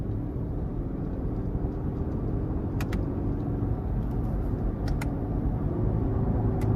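A 2022 Lexus LX600 F Sport with a 3.5-liter twin-turbo V6 and ten-speed automatic accelerates from inside the cabin, a steady low engine drone and road rumble with faint clicks, no speech.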